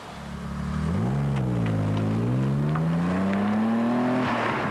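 A BMW 535i drives past, its engine note rising steadily as it accelerates through a gear change, loud and continuous with no talk.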